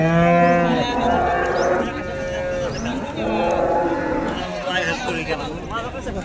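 A cow at a bustling cattle market in Modnimb lets out long, deep moos, close and loud, with a faint murmur of people in the background.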